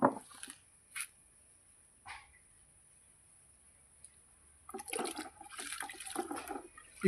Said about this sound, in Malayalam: ഈ വെള്ളത്തിൽ ഒന്ന് മുക്കിയെടുത്താൽ മതി